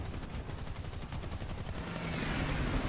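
Aircraft cannon burst from a fighter plane in an arcade-mode video game air battle against a Spitfire, a rapid rattling stream of shots over steady engine drone that swells toward the end.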